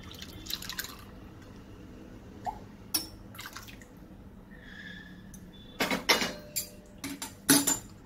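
A spoon clinks and scrapes against a dish in a string of sharp, irregular taps, sparse at first and then quicker and louder near the end, over a faint background hiss.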